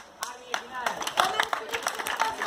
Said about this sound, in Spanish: Aplausos.